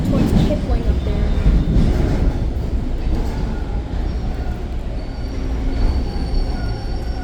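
A TTC Line 2 subway train pulls into Kipling Station, its wheels rumbling and squealing on the rails in a loud, continuous roar that eases slightly as it slows.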